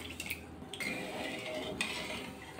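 Sugar and water being stirred in a wok to make thin syrup for rasgulla: faint, close spoon scrapes and light metallic clinks against the pan, quiet and without talk.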